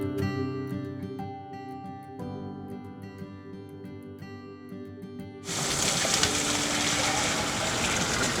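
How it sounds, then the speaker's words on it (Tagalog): Water pumped from a well, a few seconds of ringing music-like tonal background before a loud, steady rushing gush of water bursts in and continues to the end. "Dito kami kumukuha ng tubig namin."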